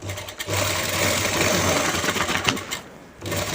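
A sewing machine runs top stitching along a garment edge, a steady close whirring drone with a brief pause near the middle before it resumes.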